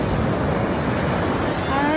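Ocean water washing over rocks and tide pools on the California coast, a steady broadband rush of surf with wind buffeting the microphone, continuous and fairly loud throughout.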